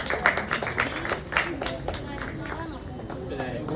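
An audience claps at a Grandparents' Day gathering at Angamaly Basilica, with scattered, moderately close claps and murmuring chatter through the clip.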